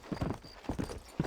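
Horse hooves clip-clopping in the Red Dead Redemption video game, a steady close trot of soft thuds with a faint tone behind it.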